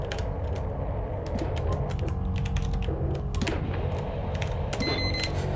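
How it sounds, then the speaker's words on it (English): Rapid, irregular key clicks come from a computer keyboard during a game of Duskers. They are close and crisp over a steady low in-game hum, with no talk. "I don't know why I'm typing it."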